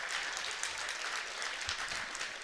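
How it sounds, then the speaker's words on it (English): Audience applause at a live Marquette Thursdays evening show at the Motor Bar in the Harley-Davidson Museum, a steady wash of clapping heard somewhat distant and soft, without talk. "Let's give Damarius a nice round of applause, ladies and gentlemen"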